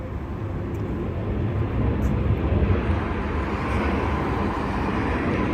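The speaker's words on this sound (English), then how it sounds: "Sorry about the plane going overhead." An airplane passes overhead on a Miami street, a steady broadband roar that swells slightly in the middle and holds loud throughout, with no talk over it.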